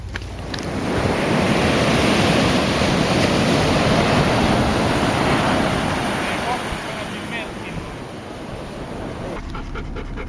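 Surf breaking on a Mexican beach where longboard surf lessons run, a loud continuous wash of waves with wind rumble, steady throughout with a slight dip near the end.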